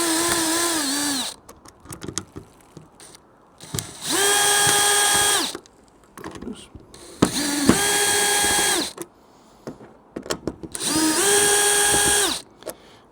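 A power screwdriver fitted with a number 2 Phillips bit whirs in four separate bursts of about two seconds each, loud and close, with quiet clicks and handling noise in the gaps.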